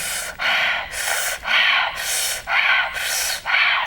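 Hard, rhythmic breathing exercise: forceful breaths repeat about every half second in a steady pulsing pattern, loud and close with no talk.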